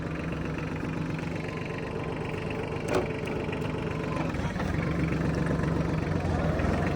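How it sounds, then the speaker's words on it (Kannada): A Massey Ferguson 6028 Maxpro mini tractor engine runs steadily, a low continuous drone with a brief knock midway, heard up close. "ಇದ್ರ ಇಂಜಿನ್ ಸೌಂಡು ತುಂಬ ಸ್ಮೂತಾಗಿ ಕೇಳುತ್ತೆ"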